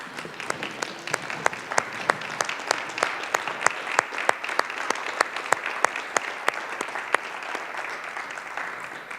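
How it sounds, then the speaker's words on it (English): An audience at a hometown keynote claps in steady, sustained applause, dense and fairly loud throughout with sharp individual claps standing out, and no talking over it. "So I'd like the room to publicly stand and give my parents a round of applause."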